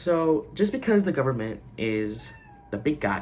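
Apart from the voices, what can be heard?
cat meowing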